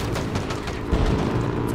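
Gunfire in Halo Infinite during a Big Team Battle match with Warthogs, a rapid, loud stream of booming shots and blasts close by, continuous across the moment with little pause.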